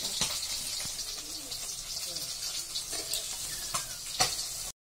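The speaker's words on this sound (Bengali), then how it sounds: "এদিকে মাছ ভাজা হচ্ছে" Fish frying in oil in a pan in a home kitchen, a soft, steady sizzle heard from a little distance, with pigeons cooing nearby and occasional light clinks.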